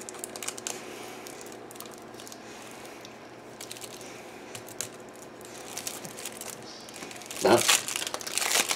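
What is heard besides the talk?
opening a package with an X-Acto knife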